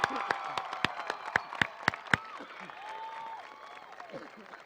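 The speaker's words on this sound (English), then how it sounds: "please help me give them a well-deserved round of applause for their hard work" Applause from a crowd at a 2019 high school graduation ceremony, a burst of sharp claps at first that thins into softer scattered clapping with faint voices beneath.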